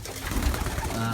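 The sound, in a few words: pigeons cooing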